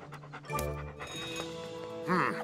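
A cartoon dog pants in quick, breathy bursts, close and moderately loud, with background music and other cartoon sounds around it.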